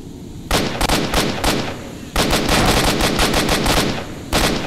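Bursts of automatic gunfire in S.T.A.L.K.E.R.: Shadow of Chernobyl, loud and close, coming in several sustained rapid-fire volleys separated by short pauses, with no talking over them.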